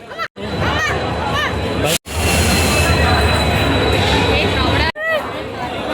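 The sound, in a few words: train arriving at platform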